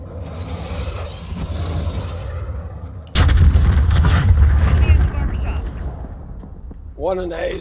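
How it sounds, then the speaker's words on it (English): Video game gunfire from Call of Duty Modern Warfare, with an enemy shooting out of a building window: a dense, loud stretch of booming shots and rumble that swells midway, then fades, ending with a short burst of voice. "He's shooting out the window"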